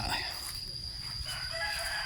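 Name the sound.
chickens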